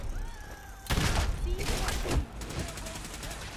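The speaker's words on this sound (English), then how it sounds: "Everybody's just shooting at air." Rapid gunfire bursts from a firefight in the Fallout video game, loud volleys of shots clustered over a couple of seconds against background game noise, then fading to a quieter ambience.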